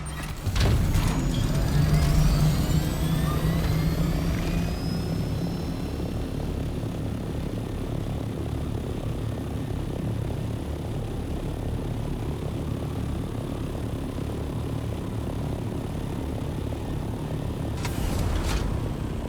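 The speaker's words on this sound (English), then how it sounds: "Still hearing the engine sound on the ornithopter." An ornithopter engine in the video game Dune Awakening drones loudly and steadily like a propeller aircraft, a sustained close roar with faint whooshes near the start and end.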